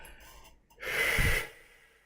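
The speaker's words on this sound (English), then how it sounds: "So again, breathing all the way out." One long, breathy exhale pushed all the way out during a voice class breathing exercise, rising to a strong airy rush close to the mic and then fading, with no speech.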